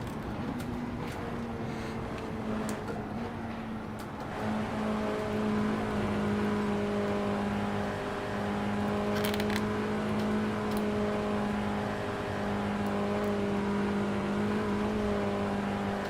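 Front-wheel-drive Toyota Altis VLN SP3 race car in a VR racing game at Fuji, its engine droning steadily and loudly at high revs, holding a sustained whine with slight pitch shifts throughout, no talking.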